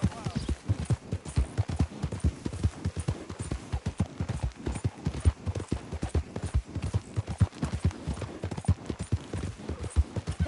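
Steady rhythmic clip-clop of video game horse hooves at a trot, close and clear, with a voice talking over parts of it.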